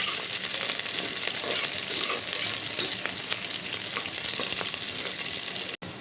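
Onions fry in hot oil for biryani, giving a continuous close crackling sizzle with faint stirring scrapes and no voices.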